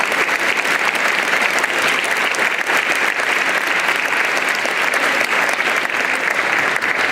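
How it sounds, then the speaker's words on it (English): Loud, sustained applause from a large audience at a high school veterans assembly, a dense, even roar of many hands clapping at once with no break for the full length. "Yeah, we should clap for that."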